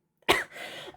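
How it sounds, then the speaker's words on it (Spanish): A single close, sharp cough indoors, a sudden loud burst followed by a raspy throat-clearing tail that fades out within a second. "Un segundo, voy a toser."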